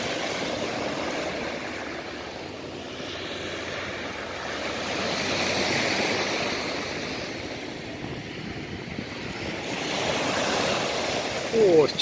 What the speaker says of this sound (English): The River Thames.